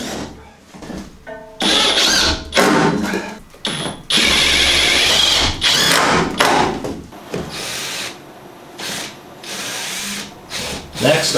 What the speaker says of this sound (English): I drilled a hole in the fuel tank